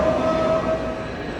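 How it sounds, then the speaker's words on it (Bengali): A white bullet train waits at a station platform, and a steady tonal hum or whistle rises over a constant rumbling background, fairly loud and continuous. "সাদা বুলেট ট্রেনটাই আমাদের জন্য অপেক্ষা করতেছে"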